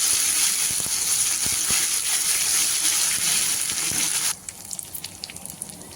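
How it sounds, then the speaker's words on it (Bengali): Ground ginger and cumin paste frying in oil with bay leaves, a loud, dense sizzle for most of the clip that drops suddenly to quieter, scattered crackles and pops. "জিরে আর আদা আমি একটু আগে কষিয়ে নিচ্ছি"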